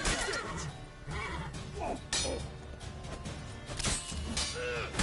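Roach, the horse in The Witcher 3, whinnies loudly several times amid crashing and smashing combat noises in a town, the neighs rising and falling close up.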